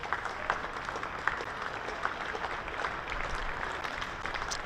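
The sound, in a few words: home crowd applauding at a cricket match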